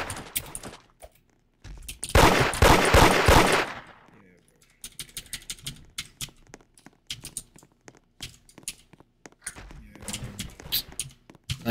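Gunfire in the Roblox game Da Hood: a loud, dense burst of rapid automatic shots lasting about two seconds, followed by scattered quieter shots and clicks with sparse talk.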